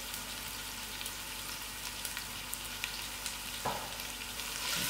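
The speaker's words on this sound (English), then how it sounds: "While my onions is frying out, I have to add in my whole black pepper." Leek and onions fry in a pot for a chunky butternut soup, giving a steady, even sizzle with a few light stirring taps and one soft clunk partway through.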